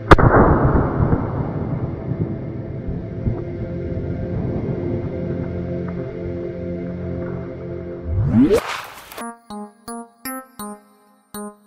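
A long, heavy explosion sound effect with a deep rumbling roar that slowly fades, then a rising whoosh and a short run of even, rhythmic electronic tones. No one speaks.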